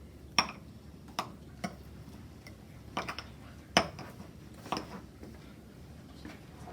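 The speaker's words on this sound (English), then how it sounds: "We can take a knife and make it into smaller pieces" A knife cuts marble brownies into smaller pieces on a dish, giving a handful of sharp, irregular clicks and taps of the blade against the plate, close by in a quiet room.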